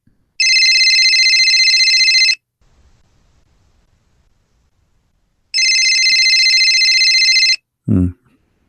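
A phone rings loudly in two long electronic bursts separated by a few seconds of near silence, and a brief low thump comes right after the second ring.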